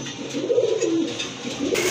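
Racing grizzle pigeons kept for sale give soft, throaty coos, a few close rolling calls in quick succession with no voices present.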